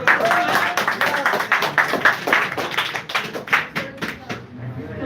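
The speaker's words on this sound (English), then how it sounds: "Clap for them." Audience clapping at a parliamentary-style debate on a caste census, moderately close, with uneven bursts of hand claps that rise and fall, and some voices mixed in underneath.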